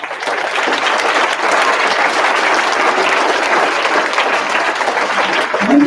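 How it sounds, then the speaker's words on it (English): Sustained applause from a large school audience at a Veterans Day assembly, a dense, even wash of clapping that holds steady and fairly loud for several seconds. "Let's give them a big round of applause."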